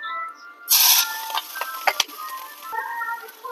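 Ginger, cumin, salt, turmeric, pepper and chili are stir-fried in a pan while milk paneer is being made. A loud sizzle bursts in near the start, then settles into softer, intermittent frying and scraping with no speech.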